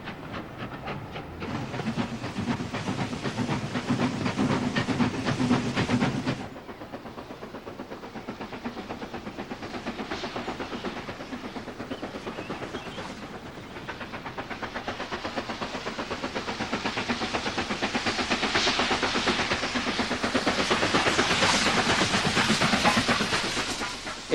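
Steam locomotive on a heritage railway line, a continuous loud rumble with hiss and rhythmic wheel clatter that drops in level after several seconds, then gradually swells again as the train draws nearer.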